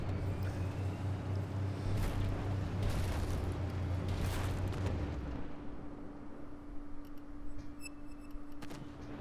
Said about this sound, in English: Big boom!